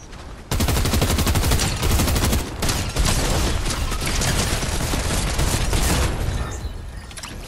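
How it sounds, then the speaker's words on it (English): Dense, loud gunfire in a shooter video game rattles almost continuously in rapid bursts, with sharp cracks and heavy reports layered over one another. "Oh, I'm getting shot at."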